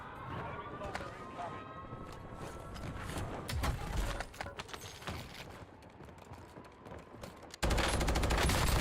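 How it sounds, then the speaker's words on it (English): New LMG machine gun in the video game Warzone firing in rapid bursts amid footsteps and game noise, with someone talking over it, ending in a louder, harsher stretch of sustained fire. "It's that new LMG, ain't it?"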